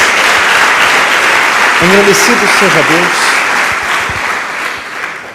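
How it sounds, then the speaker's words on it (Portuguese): A church congregation claps steadily through dense, sustained applause while a preacher speaks over it, and the clapping eases slightly toward the end. "Dê uma salva de palmas a Jesus."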